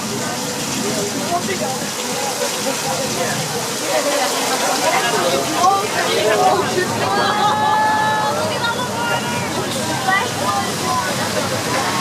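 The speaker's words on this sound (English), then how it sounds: "Since it's downhill, we only have to open the gates of the tanks and the water falls down like you just saw." Thousands of gallons of recycled water released downhill from large tanks in a flash flood effect on a nighttime studio backlot tour, a steady roaring rush and slosh of water with crowd babble around it.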